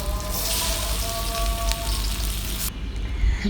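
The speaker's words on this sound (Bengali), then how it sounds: "কড়াইতে তেল একটু গরম হলে মাছগুলো ভেজে নিতে হবে" Fish frying in hot oil in a wok, a dense, loud crackling sizzle that holds steady for a few seconds before easing off.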